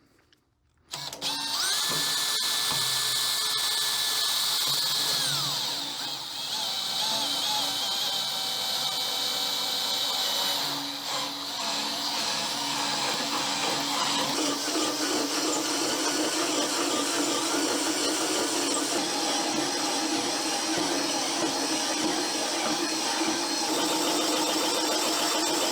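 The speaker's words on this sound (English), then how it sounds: "I'll show you the footage of me cutting the aluminum" A router bit cuts aluminum over a plywood backer. The loud, steady, high-pitched whine of the router spins up after a brief quiet start and holds almost unbroken, with shifting cutting tones as the bit moves through the metal.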